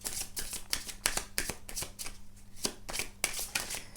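Tarot-style cards being shuffled for a card reading, with quick, rhythmic riffling and slapping bursts repeating steadily and close by, without speech.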